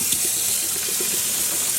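Cool water runs steadily from a tap during a yarn-dyeing session, a continuous even hiss and rush that stays close and fairly loud with no voices over it.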